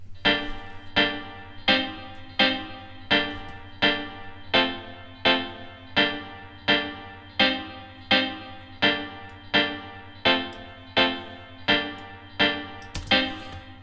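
Two layered keyboard parts in a reggae riddim, with no echo, playing short choppy staccato chords at an even offbeat pulse, about fifteen hits, each clipped and close over a steady low bass hum, no voices.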